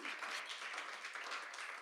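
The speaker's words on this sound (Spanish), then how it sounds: "La recibimos con un fuerte aplauso." Applause from a church audience at a seminar for parents of autistic children, a steady, dense wash of many hands clapping throughout, fairly faint and distant with no voices over it.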